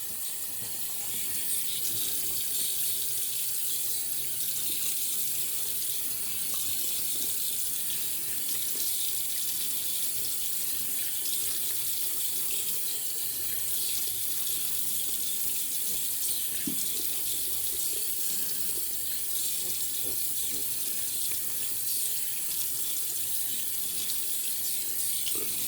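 Tap water runs steadily and close into a sink as a shaving brush is wetted before a shave, a continuous rushing splash with no talk.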